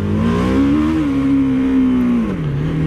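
A 2017 BMW G 310 R motorcycle engine revs loud and close, holding a steady buzzing drone before the pitch dips near the end, with no talking.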